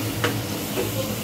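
Food sautéing in a pan while rice cooks in an Indian home kitchen, a steady close sizzle with a brief scrape of stirring, no talk.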